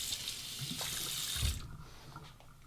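A bathroom tap runs water into a sink to warm the face before a wet shave, a steady close hiss that eases off partway through and continues more quietly.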